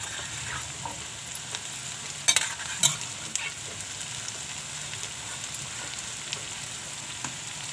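Potatoes fry with onion and tomato in a pan, a close, steady sizzle under continuous stirring, with two sharper clinks of the spoon against the pan partway through.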